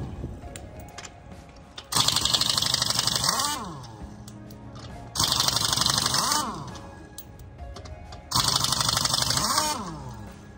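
A Chicago Pneumatic air tool on a heavy air line, used for truck steer tire work, fires in three loud, hissing, rattling bursts of about two seconds each, separated by quieter pauses in which it winds down.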